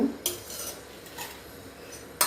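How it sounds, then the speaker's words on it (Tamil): Cutlery scrapes and clinks against a plate while eating wheat bread biryani, with a few sharp metallic taps spaced apart over a quiet background and no talking. "இப்போது சாப்பிட ஆரம்பிச்சிடலாம் பிரெட்"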